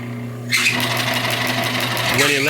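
A small homemade engine catches and runs with a steady, high-pitched buzzing whir, loud and close, starting abruptly after a brief quieter lead-in; people talk over it.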